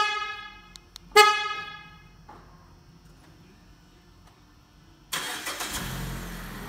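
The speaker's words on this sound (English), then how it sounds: "This remote starts the vehicle." A Mazda CX-5 starting remotely through its factory key fob: a few short horn-like chirps and a beep, a quiet pause, then the engine cranks and catches, settling into a close, steady idle rumble.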